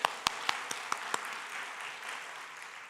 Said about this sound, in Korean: 그 하나님께 영광의 박수, 영광의 박수.